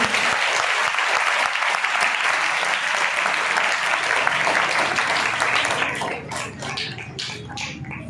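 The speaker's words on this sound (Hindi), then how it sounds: "यीशु के लिए तालियां बजा दीजिए।" A church congregation claps together in loud, steady applause that fills the room for about six seconds, then thins into scattered, fading claps.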